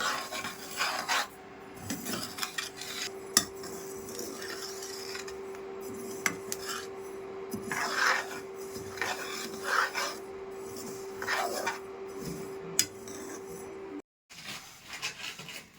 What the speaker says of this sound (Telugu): జీలకర్ర వేయించుకోవాలి